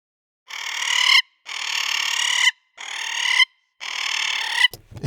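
A small parakeet's call slowed down to a much lower pitch, heard as four drawn-out, harmonically rich squawks, each lasting around a second and separated by short silences, close and isolated, ending with a brief rustle.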